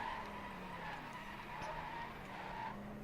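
Tyres skid steadily as a car drifts through a corner in the Driveclub racing game, a continuous squeal over engine drone lasting the whole stretch.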